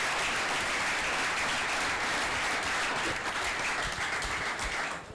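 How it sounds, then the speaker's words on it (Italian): Dense, loud applause fills a room at a football club's press conference presenting a new player signing, sustained without a break and fading only at the very end. "Un applauso per Ciccio Cardia."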